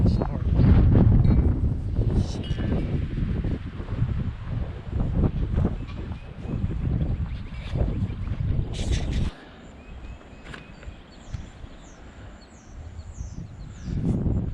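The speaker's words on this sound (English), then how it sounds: "The wind is crazy today. I don't know why the wind's blowing so hard." Strong wind buffets the microphone beside a pond, a loud continuous low rumble that drops off partway through, with a person talking over it and faint birds chirping near the end.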